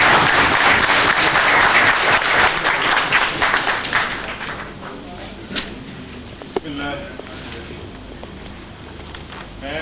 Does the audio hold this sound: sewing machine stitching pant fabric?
no